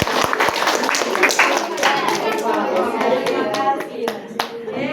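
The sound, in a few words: classroom applause, clapping hands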